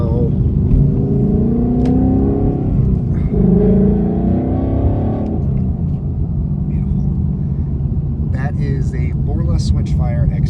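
A Ford Mustang with an active valve exhaust and X-pipe revs and accelerates loudly up close, its engine note climbing in swells before easing into a steady rumble, with speech joining near the end.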